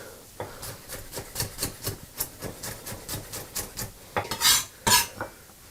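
A knife chops garlic cloves finely on a cutting board in a home kitchen, a rapid run of sharp close taps in steady rhythm, ending in a few louder knocks.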